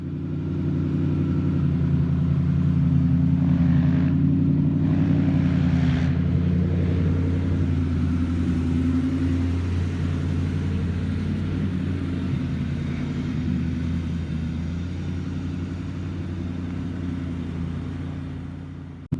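A 1997 Ford Mustang GT with a bad engine noise drives along, its engine giving a steady, loud low rumble with a brief rise early on, then settling into an even cruise with no talking.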